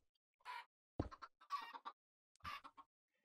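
A Minecraft chicken in the game gives several short clucks, spaced irregularly, clear and alone against silence.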